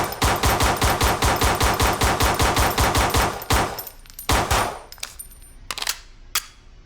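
Rapid rifle fire from a kneeling position in a shooting drill, a fast string of loud, evenly spaced close shots for about three seconds, then a few scattered single shots trailing off.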